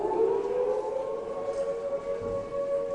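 An air raid siren played at a theme park exhibit holds a steady, wailing tone, moderately loud and sustained throughout with no voices.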